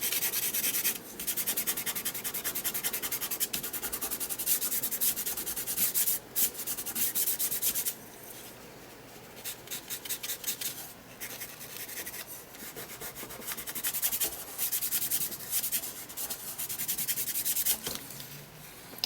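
Steady dry rubbing and scratching of a charcoal pencil shading on paper, continuous and close, with brief pauses and shifts in pressure.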